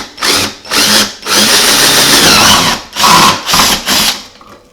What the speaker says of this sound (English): So what I like to do is to drill a hole.